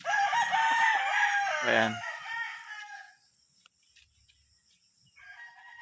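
A Tasmanian-cross fighting rooster, about 8 months old, crows loudly and close up in one long call, followed by quieter background sounds and a brief spoken word.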